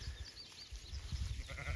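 Faint bleating of sheep on a green pasture with ewes and young lambs, thin distant calls heard over low background rumble.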